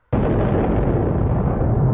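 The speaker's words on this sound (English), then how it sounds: "What kind of explosion was that?" A huge explosion from the 1987 film Predator erupts suddenly after a brief silence and holds as a loud, sustained roaring rumble for the rest of the moment.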